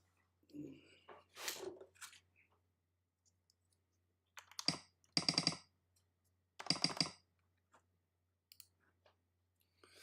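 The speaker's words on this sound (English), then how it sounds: "And start playing with the keycaps" Keycaps on a TKC-1800 keyboard with lubed Vint Black switches clack and rattle in short, scattered bursts, close and fairly quiet, separated by pauses of silence.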